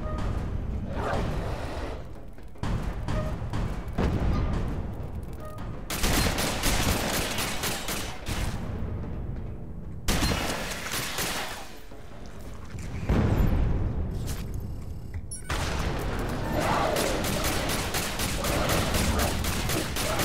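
Gunfire in the co-op video game Alien Breed: dense bursts of rapid shots and booming blasts in long sustained volleys separated by brief pauses, loud and continuous, with no talking.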